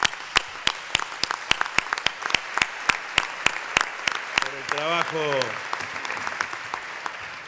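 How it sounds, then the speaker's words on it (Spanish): Applause in a legislative chamber for the Grandmothers, first as sharp separate claps in a steady rhythm, then a broader burst of clapping. A voice speaks briefly over it partway through. "un aplauso para las abuelas"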